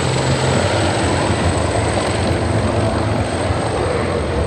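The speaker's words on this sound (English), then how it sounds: "coming in from the breakwater on your right-hand side, at low level and high speed, is the AW139 Maritime Operations Helicopter" An AW139 maritime operations helicopter of the Royal Malaysian Navy sweeps past at low level and high speed during a maritime demonstration, its loud, dense rotor and engine roar filling the whole stretch evenly and close.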